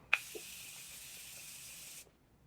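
A makeup setting spray misted from a pump bottle: a sharp click, then one steady, fairly close hiss lasting about two seconds before it cuts off.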